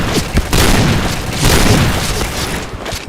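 A grenade explodes in the PointBlank shooter game, a loud booming blast with a rumbling tail amid other gunfire-like bursts.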